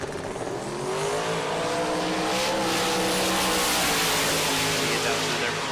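Two drag-racing Mustangs, a 1992 Ford and a 1991, run down the strip with a loud, sustained engine roar that climbs in pitch as they accelerate. The roar stays heavy from start to finish.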